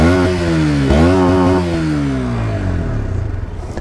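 A KTM Duke 125 motorcycle with an Akrapovic exhaust revs hard up close, its engine note climbing and dropping through several throttle blips before settling into a rough, loud idle.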